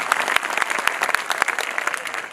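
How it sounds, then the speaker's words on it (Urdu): An audience claps at a poetry recital, a steady crowd applause with a few sharp, louder individual claps standing out near the front, fading slightly at the end. "میں چاہتا ہوں ایک بار تالی بجا کر کے مجھے ماحول دیں"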